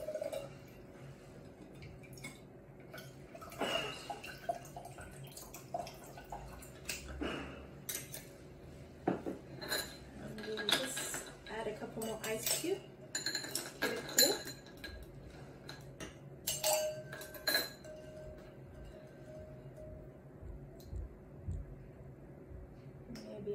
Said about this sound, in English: we just have to grab our serving glass and we strain everything in